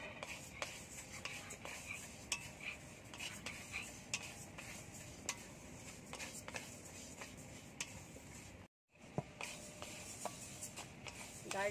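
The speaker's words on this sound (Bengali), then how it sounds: "জিরেটা ভাজা হয়ে গেছে, আবার ডালগুলো ভেজে নেব" Moong dal dry-roasted with cumin in a dry kadai, a spatula scraping and stirring it in quiet, irregular strokes with light rattles, broken by a brief silence near the end.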